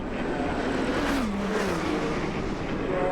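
Race car engine at a 24-hour endurance race, a steady loud drone with pitch sliding down and up as cars approach and run past, side by side through the inside.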